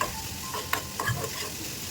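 Tomatoes frying in a pan for Kolhapuri-style egg bhurji, a steady close sizzle broken by a few sharp spatula scrapes and taps, no talk.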